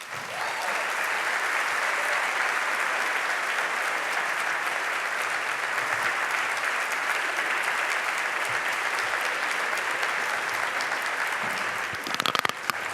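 An audience at an opening celebration applauds its four speakers, a long, dense, steady roll of clapping that stays full for about twelve seconds before thinning into a few last claps.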